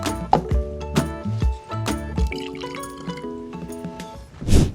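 Root beer made with dry ice is poured into cups, giving splashing, gurgling liquid sounds in uneven bursts, close and fairly loud. A final hissing fizz follows.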